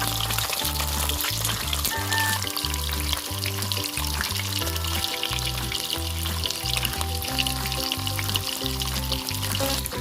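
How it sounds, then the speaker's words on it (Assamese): Fish sizzling in hot oil in a wok, a steady loud crackling fry that runs the whole time, with a low rhythmic thudding pattern under it and no voices. "মোৰ তেলখিনি গৰম হৈ গ'ল আৰু ইয়াত মই এতিয়া মাছকেইটা দি দিছোঁ।"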